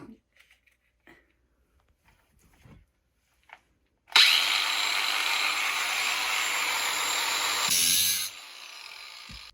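A bicycle fork steerer being cut an eighth of an inch shorter with a power tool, a loud steady whine lasting about four seconds after some quiet handling and brief speech.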